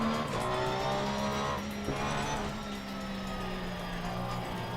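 Race car engine in a racing video game drones loudly, pitch falling under late braking with tire squeal and skidding, then holding steady, continuous and close.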